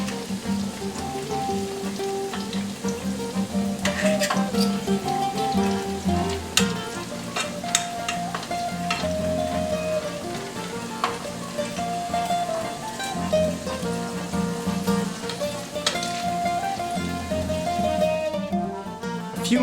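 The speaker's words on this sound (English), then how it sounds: "you get a nice little crispy char on each side of the chicken thanks to the frying from the oil" Chicken slices fry in hot oil in a pan, giving a continuous close, crackling sizzle with scattered pops throughout and music playing softly underneath.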